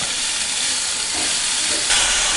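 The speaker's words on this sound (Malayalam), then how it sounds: "നല്ല ബ്രൗൺ നിറമാവുന്നത് വരെ വഴറ്റുക" Onions sauté until brown for a Kerala-style chicken roast, producing a loud, steady hissing sizzle that fills the whole clip and swells slightly near the end, with no talk.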